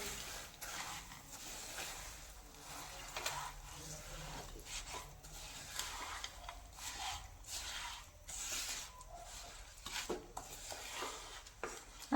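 Sesame ladoo mixture with oil and peanuts being stirred in a pan, giving a steady scraping and rubbing of a spoon against metal with faint light clinks, close and continuous throughout without any talking.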